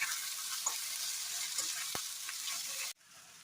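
Sliced onions frying in hot oil in a pan, giving a steady, close, broadband sizzle with a few soft stirring clicks, cutting off abruptly near the end to a quieter hiss.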